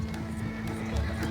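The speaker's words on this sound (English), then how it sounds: "Slow down, you'll burn out the horses." Horses pulling a coach in Red Dead Redemption 2, a short, faint stretch of hoof clatter and rolling movement with a brief neigh.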